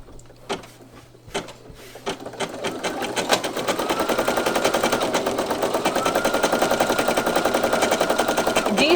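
Single needle embroidery machine stitching a purple felt outline, starting with scattered needle taps that build into a steady, rapid mechanical chatter, close and loud, running alone.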